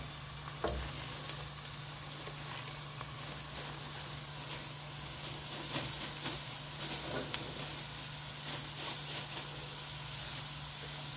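Cabbage and turmeric fry in a hot pan, a steady close sizzle with occasional stirring scrapes running the whole time, no voices.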